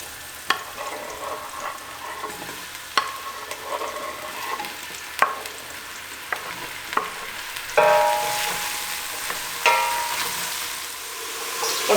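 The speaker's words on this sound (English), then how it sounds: "So you're looking for that sizzle as they go into it." Mushrooms fry in hot oil in a pan, a steady bright sizzle with sharp clatters and pops as they are stirred, the hiss swelling louder near the end.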